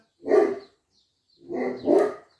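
A dog barks close by: one sharp bark, a short pause, then a quick double bark.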